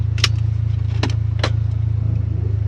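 Polaris Ranger XD 1500 fitted with an EVP exhaust idling with a loud, steady low rumble as it sets off, with a few sharp clicks and rattles near the start.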